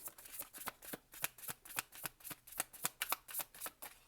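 A Fairy Wisdom Oracle card deck being shuffled close up, a brisk even run of crisp riffling flicks about four per second, with no voices.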